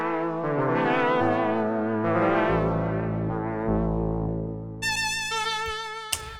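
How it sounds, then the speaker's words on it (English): Arturia CZV software synth emulating a Casio CZ phase distortion synth plays a rich, evolving sustained pad with wavering tones, then a bright buzzy high line enters near the end, moderately loud and alone. "This is based around the Casio CZ phase distortion synths."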